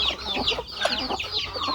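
Chickens cluck and murmur continuously while pecking at paddy rice on a farm in Surin, northeastern Thailand, with several birds overlapping up close.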